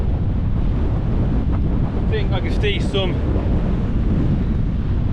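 Strong wind buffets the microphone on the exposed hilltop of the Lawley, a constant loud roar through the whole stretch, with a hiker speaking briefly partway through.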